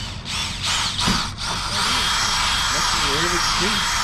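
A rivet tool joins parts of a cheap old vehicle in short, buzzing bursts close by, followed by a steadier whir, with people talking over the later part.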